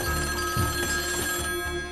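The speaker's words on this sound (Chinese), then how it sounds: "这时房间的电话突然响起" A telephone rings in a hotel room in a film, a clear, close electronic ring with a repeating trill that lasts about two seconds over a quiet room.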